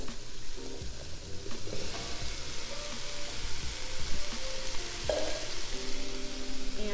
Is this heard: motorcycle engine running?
no